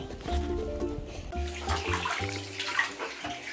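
Shower water runs over a six-month-old baby in a bath, a steady close hiss and splatter of spray that shifts as the stream moves, with no talking over it.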